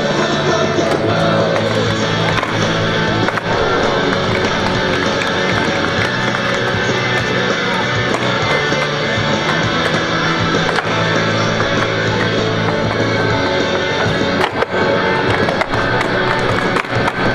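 A pro freestyle skateboarder performs tricks at a Koshigaya Laketown mall demonstration, wheels rolling steadily with repeated sharp board clacks and taps, loud and close over a constant roar of crowd and ambient noise for the whole stretch.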